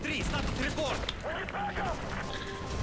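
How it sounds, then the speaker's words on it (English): Gunfire erupts aboard a hijacked presidential plane in Call of Duty Modern Warfare 3, sharp shots crackling amid chaotic game sound effects and shouting voices throughout. "Gunfire on the plane."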